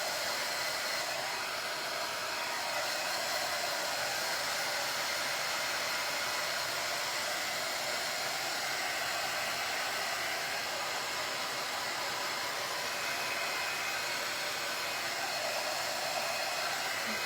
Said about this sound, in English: So this one should be the last time that we have to dry this.